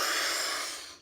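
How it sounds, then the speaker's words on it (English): One deep, forceful breath of the Wim Hof breathing method, a loud airy rush close to the ear that fades away within about a second. "breathing deep like that."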